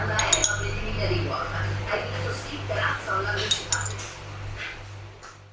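Dishes and cutlery clink and clatter as a table is set, with light ceramic and metal taps scattered over a few seconds, a steady low hum beneath and voices talking.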